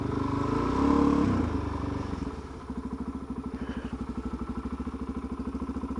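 A supermoto motorcycle on a dual carriageway, its single-cylinder engine throbbing in a steady pulsing rhythm after a brief rise in revs, close and fairly loud, with no talking.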